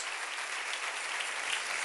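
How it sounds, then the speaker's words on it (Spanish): A church congregation breaks into sustained, dense applause, steady clapping that fills the whole moment without a pause. "Denle un aplauso al Rey bendito."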